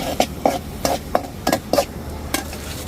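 A spoon or spatula stirs ginger and garlic paste in a pan, making about ten quick, close scraping strokes in an uneven rhythm over a faint sizzle.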